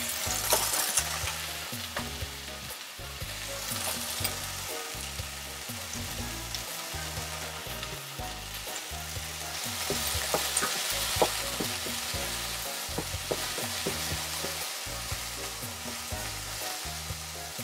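Carrots stir-frying with chicken in a teriyaki stir-fry: a constant bright sizzle from the pan, with regular scraping strokes of a utensil as the food is stirred, close and moderately quiet.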